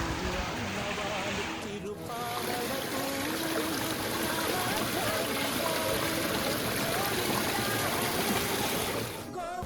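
Waterfall stream beside the Srivari Mettu stone-step footpath up to Tirumala, a steady close rush of falling and flowing water that fills the whole clip, briefly dipping near the start before resuming.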